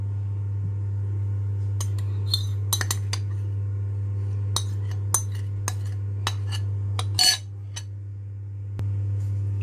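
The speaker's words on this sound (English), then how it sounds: "so I'm just going to now just mix the butter in the biscuits" Melted butter is stirred into crushed biscuits in a bowl for a baked cheesecake base: scattered clinks and scrapes of a utensil against the bowl, irregular and close, over a steady low hum.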